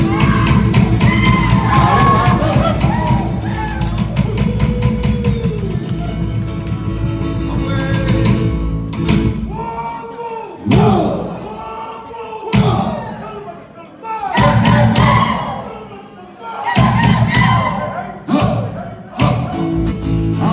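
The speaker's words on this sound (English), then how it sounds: "these men are going to slap their bodies for you here tonight" Samoan slap dance performed live, men smacking their bodies in sharp rhythmic bursts of slaps and thuds while an audience cheers and whoops, with shouted calls from performers and a host's voice over the beats.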